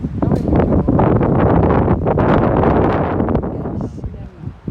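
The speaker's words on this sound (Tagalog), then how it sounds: "Mahangin." Loud, gusty wind on Bermuda Island buffeting the microphone, a rough continuous rumble that eases off toward the end, with a few faint voices underneath.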